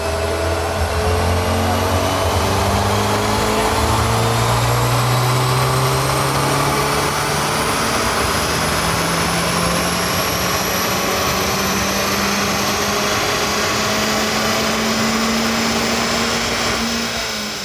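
A Toyota MR2 with a 3SGTE engine swap runs on a chassis dyno, its engine whine sweeping steadily upward in pitch through a long, loud pull with turbo and roller roar, no voices.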